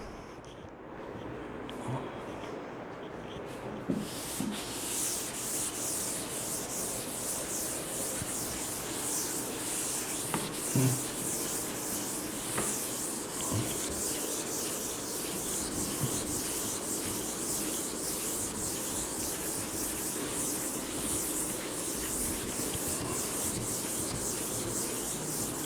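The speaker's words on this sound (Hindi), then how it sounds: "चलो रब कर देता हूँ" A blackboard being rubbed out during a maths lecture, a continuous scratchy rubbing and wiping that runs steadily for over twenty seconds after a short pause.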